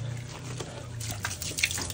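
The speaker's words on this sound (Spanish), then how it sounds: "Vean cómo va para abajo el agua." Dirty, yellowish water draining out of a home boiler during a flush, a steady close watery rush and trickle with brief splashy bursts over a low hum, no talking.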